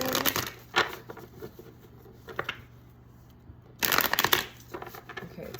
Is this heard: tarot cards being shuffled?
yes